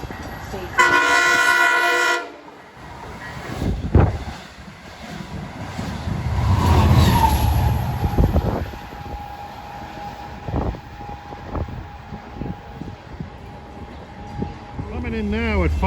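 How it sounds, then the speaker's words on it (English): Diesel commuter train pulling into New Hyde Park station during evening rush hour, a horn blast near the start, then a long rumbling approach with a steady high brake squeal and clanks, a station announcement voice over it. "Coming in now at 5:30 is train 560 from Hunters Point Avenue to Oyster Bay"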